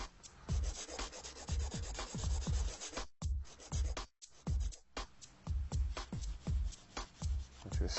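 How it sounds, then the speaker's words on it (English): A file rasping along the sides of a fingernail, brisk back-and-forth scratchy strokes in a quick regular rhythm, close and clear, with two brief pauses partway through. "I'm going to begin by filing her sides,"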